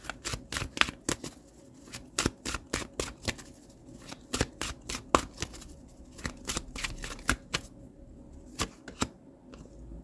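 A deck of tarot cards is shuffled close by in quick bursts of crisp slaps and flicks. Brief pauses break up the irregular rhythm.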